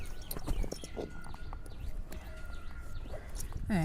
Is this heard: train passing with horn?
no